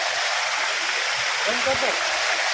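Water gushes hard from a broken pipe in a steady, loud rushing hiss, close by, with a brief splashing gurgle midway.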